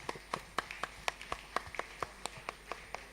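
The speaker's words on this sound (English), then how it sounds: "Give them good round of applause." Sparse, distinct hand claps from a small group, fairly faint and irregular, like a brief round of applause in a room.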